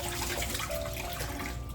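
Tap water gushes steadily into a cooking pot for jasmine rice: a brief, close, continuous splashing rush with no talking.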